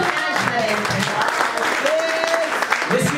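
A church congregation applauding and cheering to acclaim Jesus Christ, a continuous wash of clapping with voices calling out over it, close and lively throughout.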